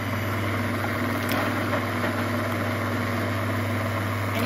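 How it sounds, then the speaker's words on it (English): An immersion blender purées cream of mushroom soup, held tilted off the bottom of the pot. It makes a constant, even motor whir with a low hum that does not let up, and nobody speaks. "my immersion blender, so instead of having it flush with the bottom, I'm gonna tilt it a little bit"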